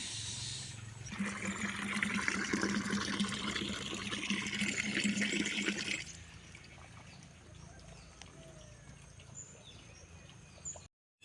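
Water poured into soaked oil cake feed, a steady splashing pour that runs for about five seconds and then stops, leaving quieter background noise.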